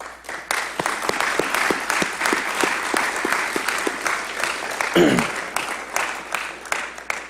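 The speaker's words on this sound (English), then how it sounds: "Please give yourself a round of applause." Loud, sustained audience applause from a crowd at a police swearing-in and promotion ceremony in Revere, with dense clapping throughout and a brief swell partway through.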